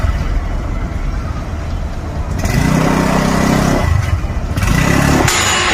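A motorcycle engine runs on a street, its low rumble thickening and growing louder after a couple of seconds, then holding at a steady, close-by drone with brief dips.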